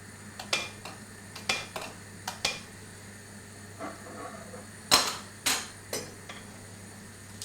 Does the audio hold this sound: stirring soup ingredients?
yes